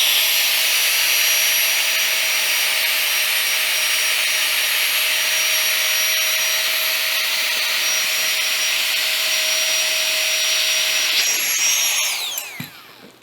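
A tiny FlexTailGear air pump inflating a pillow through a one-way valve gives a loud, close, high-pitched motor whine that holds steady for about eleven seconds, then shifts and cuts off.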